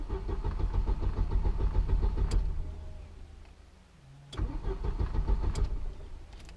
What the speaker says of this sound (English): you want to unplug the fuel pump relays and turn the car over a few times